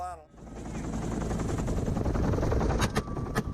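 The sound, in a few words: helicopter with gunfire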